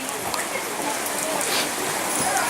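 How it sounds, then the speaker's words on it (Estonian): Rain falling steadily at an outdoor Old Town Days festival performance, a dense, even patter and hiss on surfaces, heard close and continuous. "vaadake, vihm juba jääbki järgi"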